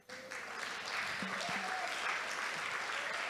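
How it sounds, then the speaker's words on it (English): Audience applause fills a conference hall at a women's leadership event in Nigeria, a dense, steady clapping that starts abruptly and holds loud throughout, with a brief voice faintly above it. "Don't clap, don't clap."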